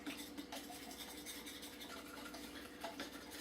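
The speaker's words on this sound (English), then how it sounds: "Now we just gotta whisk it." Whisk scraping and clattering against a bowl of mixed ingredients in a home kitchen, a steady close rhythmic scratching with quick repeated strokes and no talking.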